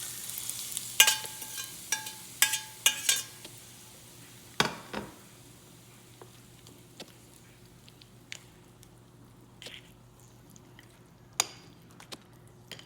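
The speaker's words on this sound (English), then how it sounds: "Add all ingredients to the grated mango. Mix it well." Grated raw mango being mixed with spices, hing and oil, giving soft wet squishing and stirring sounds with a cluster of clicks and scrapes early on, then sparse quiet taps and rustles.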